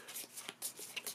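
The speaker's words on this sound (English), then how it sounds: "We then give this a quick shuffle" A quick shuffle of a deck of playing cards during a tabletop board game, a short run of soft, rapid riffling flicks heard close and quiet, with no talking.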